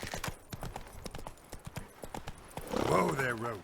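Roach, Geralt's horse in The Witcher 3, gallops with steady, rhythmic hoofbeats close by, and a voice speaks over the last second.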